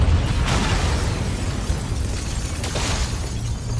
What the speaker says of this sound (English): it's like an explosion